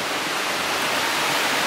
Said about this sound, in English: Very nice waterfall looking thing.